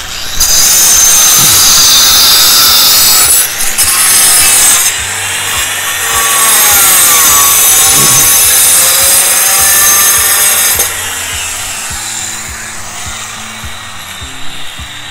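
A loud, continuous power saw grinds through São Tomé natural stone for a mosaic pavement, its harsh whine rising and falling as the blade bites, then easing off toward the end.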